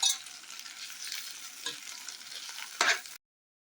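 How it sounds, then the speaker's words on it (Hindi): Kashmiri-style eggplant gets stirred and tossed in a sizzling frying pan, a continuous frying hiss broken by scraping stirs and one louder clatter near the end. "अब हम इसको अच्छी तरीके से मिक्स करेंगे।"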